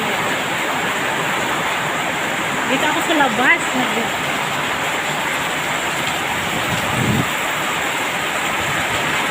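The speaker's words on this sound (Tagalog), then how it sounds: "kagabi pa yung ulan grabe dito guys sa barin ang lakas ng ulan lang" Steady heavy rain in Bahrain hisses loudly throughout, a dense wash of noise with someone speaking briefly over it partway through.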